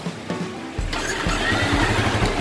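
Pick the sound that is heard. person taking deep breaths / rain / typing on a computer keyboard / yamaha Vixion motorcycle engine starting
yamaha Vixion motorcycle engine starting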